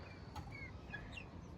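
Chickens clucking faintly in a home yard, a few soft, scattered calls over a low, steady background hum, no one speaking.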